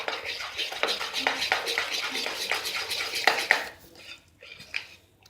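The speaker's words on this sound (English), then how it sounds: "Stir it very finely to get a very" Spoon whisking rava (semolina) appam batter in a bowl, a close run of quick scraping clinks and taps against the sides, steady for about three seconds before thinning to a few isolated knocks.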